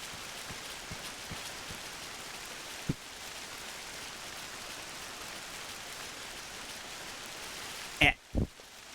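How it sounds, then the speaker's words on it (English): Steady rain in a video game, a soft continuous hiss of drops falling across the whole stretch, with a brief voice at the end. "It's raining and it's miserable here"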